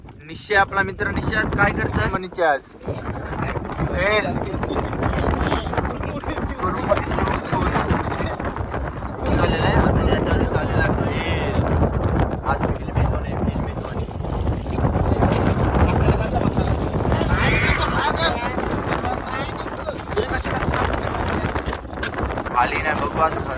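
Strong wind buffets a fishing boat rocking at sea near the Kashakhadak rocks during a storm, a loud, steady roar of gusts and water filling the whole stretch, with someone talking over it throughout.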